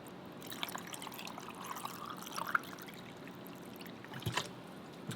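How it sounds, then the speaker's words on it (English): Cranberry juice poured over melting ice in a glass, a soft steady trickling with faint clinks, fairly quiet and close, with a brief sharper splash near the end. "Let me pour something to drink. My ice over here is melting."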